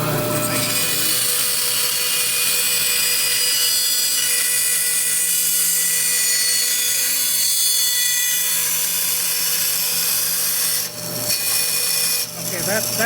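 Bandsaw cutting wooden spoon blanks, a steady loud whine and rasp of the blade through wood that runs almost unbroken, then dips briefly near the end as the cut is turned.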